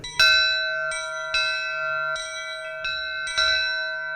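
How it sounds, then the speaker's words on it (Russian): Bells of a newly built church in Kazan ring out in several loud, resonant strikes about every half second to second, each tone lingering and overlapping the next. "Вы послушайте только, какой звон у этих колоколов"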